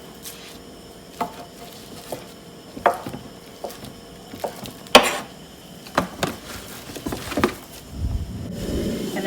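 A knife chops through room-temperature mozzarella curd on a wooden board in a series of irregular soft thuds and taps, close and dry, with no talking.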